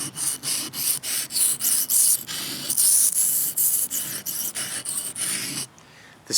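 A knife is stroked repeatedly across a cheap, inexpensive sharpening stone, giving a steady series of gritty rasping passes in a regular rhythm, close and fairly loud, with no talking.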